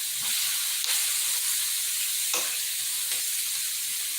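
Burgers sizzle and fry steadily in a pan, a dense continuous hiss with a few faint clicks, close and fairly loud with no talking.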